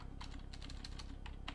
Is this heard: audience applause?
no